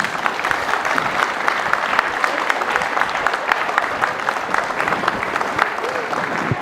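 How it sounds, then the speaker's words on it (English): Steady applause from a crowd at a Kenyan Jamhuri Day celebration in Seattle, Washington, many hands clapping continuously at a fairly loud level throughout. "Please give them a round of applause."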